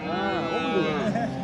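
Cows moo in long, wavering low calls, several overlapping close by at a livestock market in Çorum, Turkey, with a bit of background murmur.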